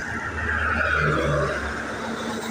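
Fast cars sweep past on Roman Highway in Orani, Bataan, a loud whooshing road roar with engine hum that swells and fades as a vehicle goes by, with no talking.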